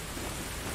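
Heavy monsoon rain in the Call of Duty: Modern Warfare 2 video game, a dense steady hiss of downpour filling a brief moment with no talk.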